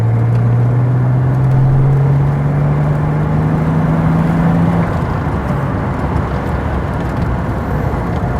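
A Ford Sierra XR4i engine accelerating above 3,000 rpm, a loud rising drone that climbs steadily in pitch for several seconds, then settles into a steady cabin hum.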